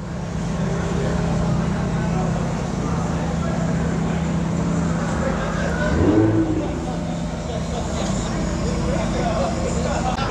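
Lamborghini Huracan supercar engine at the Exotics Racing track in Las Vegas, a steady low rumble with a brief rev swell midway, heard under ongoing talk and background activity.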